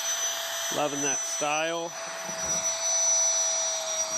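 A vacuum pulls air from a vacuum storage bag in a continuous high whine with steady airflow noise throughout, while a voice speaks briefly over it.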